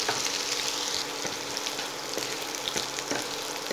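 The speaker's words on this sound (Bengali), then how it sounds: "পেঁয়াজ দেওয়ার পর আমি পেঁয়াজ, আদা আর রসুনটাকে 1 মিনিট ফ্রাই করে নেব।" Chopped onion, ginger and garlic fry in oil in a pan for restaurant-style mixed noodles, giving a loud, close, continuous hiss and crackle with a few soft stirring scrapes.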